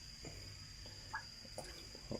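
Young frogs being raised croak softly at a distance, with a few scattered faint calls over a steady background hum.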